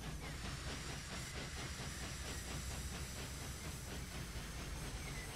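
A class 64 steam locomotive runs with a continuous steady hiss and rumble, rhythmic chuffing pulses audible throughout, moderately distant and fairly faint.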